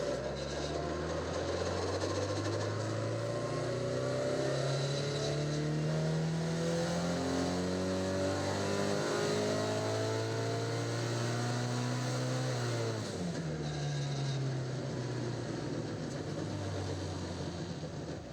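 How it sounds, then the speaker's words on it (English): A car engine making about 430 wheel horsepower on a dyno, revving hard with a loud, sustained rising drone that sweeps up through the gears, dips at a shift and climbs again, with no talking. "we're going to get our engine up and running here on our dyno"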